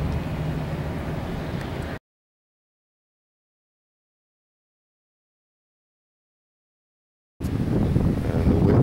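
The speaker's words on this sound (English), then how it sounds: "the wind today is about 15 to 20 out of the northwest" Gusty 15 to 20 northwest wind at an open flying field buffets the microphone in a loud, steady broadband rumble, cutting out to silence for several seconds before returning just as strong.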